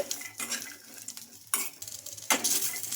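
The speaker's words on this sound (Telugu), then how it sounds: "వాటిని కూడా వేసేసుకొని లైట్గా ఫ్రై చేసుకోవాలి" Green chillies and roasted gram dal (putnalu) frying lightly in a pan, a close sizzle with bursts of spoon scraping and metal clatter as they are stirred, no voices.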